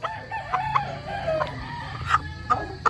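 Chickens clucking and calling nearby on a farm, short repeated squawks and a drawn-out crowing call over a low background rumble.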